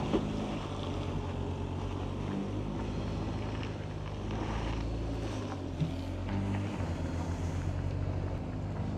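Toyota off-road vehicle crawling up a rocky ledge, a continuous low engine drone with wind buffeting the microphone and occasional knocks, steady and close throughout.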